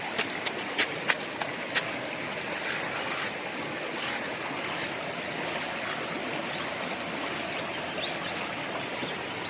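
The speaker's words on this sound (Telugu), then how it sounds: "ఇప్పుడు లైట్గా నీళ్ళు ఊడడం స్టార్ట్ అవుతూ ఉంటాయి అన్నమాట" Water seeps and trickles into a pit dug with a stick in a riverbed, a soft continuous gurgle with a few sharp knocks early on and no talking.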